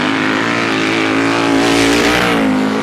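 Grasstrack racing machines, including a Westlake V-twin push-rod sidecar outfit and 1000cc four-cylinder Yamahas, roaring close and loud down the back straight, a sustained engine drone that swells slightly midway.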